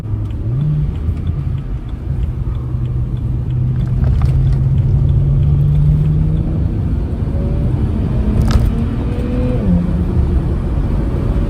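A BMW E92 drives along the road to a grocery store, heard from inside as a steady engine drone that rises and falls in pitch as it accelerates and shifts gears, with constant road rumble beneath.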